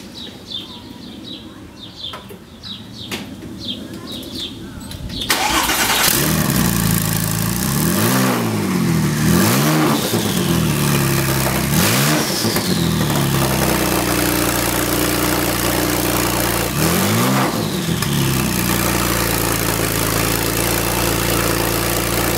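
A Porsche 996 Turbo running without an exhaust idles with a raspy, close drone, then snaps into several loud, repeated revs that rise and fall before settling back to idle.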